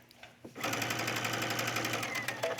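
A sewing machine stitching a collar onto a top starts after a short quiet moment, then runs in a steady, fast, close whir of rapid needle strokes until the end.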